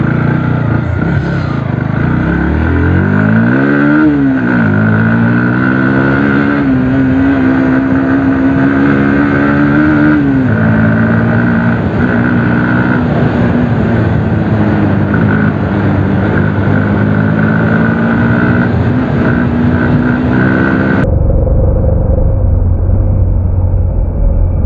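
A Bajaj Pulsar NS160 motorcycle accelerates at full power, its loud engine note climbing steadily in pitch through the gears before cutting off abruptly near the end.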